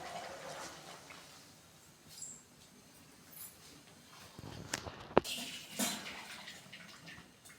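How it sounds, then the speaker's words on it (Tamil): Boiled potatoes being drained in a home kitchen, soft intermittent splashing and pouring water with a few clinks and knocks of a pot, quiet and close. "உருளைக்கிழங்கு இருக்க தண்ணி எல்லாமே வடிகட்டியாச்சு"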